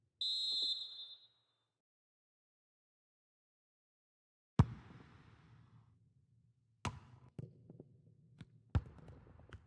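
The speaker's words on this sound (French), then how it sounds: "le coup de sifflet de l'arbitre" A referee's whistle in a FIFA football video game gives one short shrill blast at the start, followed by silence and then several sharp isolated thumps with low rumbling.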